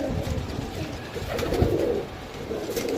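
Pigeons kept by a pigeon fancier coo softly in low, repeated murmurs close by over a steady background, with no talk.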